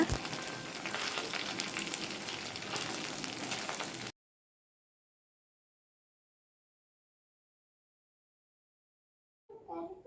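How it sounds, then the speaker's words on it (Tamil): Idli slices deep frying in hot oil give a dense, steady close sizzle for about four seconds, then stop abruptly. Silence follows, and a brief faint sound returns at the very end. "எல்லா ஸ்லைஸஸும் இந்த மாதிரி நல்லா டீப் ஃப்ரை பண்ணி எடுத்து வச்சுக்கலாங்க"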